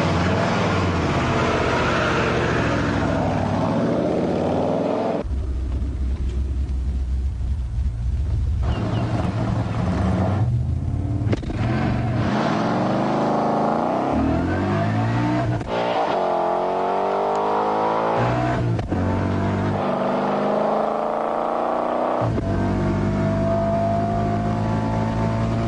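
A 630-horsepower car accelerating hard through first, second and third gear to about 7,300 RPM: a loud, close engine roar climbs in pitch, cuts off briefly at each shift, then climbs again, continuous with no talk.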